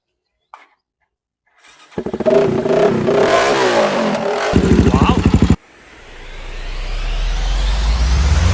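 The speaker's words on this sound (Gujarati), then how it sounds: "તો પેલા એકવાર ભાઈ આપણને ચાલુ કરીને બતાવે છે બાઇક." A modified motorcycle engine cranks and fires after a brief quiet, then revs hard and unevenly at close range in loud bursts before cutting off abruptly, followed by a rising windy rush.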